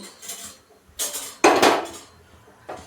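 A few metallic clanks and one loud scraping clatter as a wok is set down on the stove and shifted, with brief quiet gaps between.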